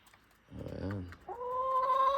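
Backyard chickens clucking while pecking at scattered feed, a short burst of throaty clucks followed by a sustained higher call, close by over faint ambient noise.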